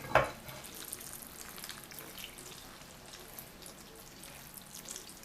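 Liquid is poured slowly over stuffed grape leaves for vegetarian yalanci sarma, giving a soft, steady trickling hiss that runs unbroken for several seconds after a brief knock at the start, with no talking.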